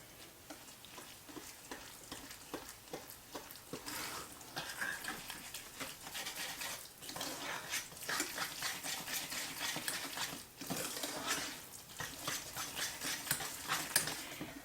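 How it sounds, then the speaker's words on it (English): Cinnamon being stirred by hand into a bowl of snickerdoodle cake batter made with butter and sugar, a steady run of soft scraping and wet patter from the spoon, fairly close, with no talk. "We're going to stir that in."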